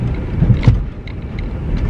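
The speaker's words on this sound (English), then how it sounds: "we're going to hit this speed bump at normal speed" A new Land Rover Defender rolls over a sharp speed bump at normal speed, giving a brief muffled thump and jolt inside the cabin over a steady low road and wind rumble.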